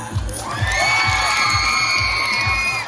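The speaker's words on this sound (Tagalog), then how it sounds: "Bakit hindi po natin sabay-sabay palakpakan at hiyawan ang inyong nag-iisang Ellen Adarna?" A pageant crowd at a Philippine festival cheers and shouts for Ellen Adarna, high whoops and screams over a rhythmic thumping beat, loud and sustained.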